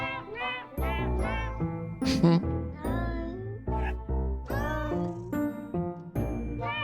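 Cartoonish synthesized cat meows over a bright, chiming melody in the game Stars In The Trash, repeating in short musical phrases.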